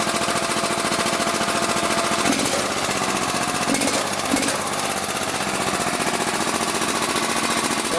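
An Emglo air compressor's small engine runs steadily nearby, giving a loud, fast, rattling mechanical chatter that holds constant throughout with no voices.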